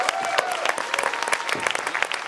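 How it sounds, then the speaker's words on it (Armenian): An audience breaks into dense, lively clapping for Arman, a contestant on a game show, sharp claps crowding together at close range with no voices on top. "Եվ այսպես ծափարում եք Արման"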